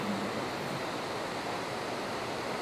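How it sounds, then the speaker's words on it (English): A waterfall on a river in Elora, Canada, where the water has cut deep into the stone: steady broadband rushing roar, continuous and fairly close, with no voices. "There is the waterfall."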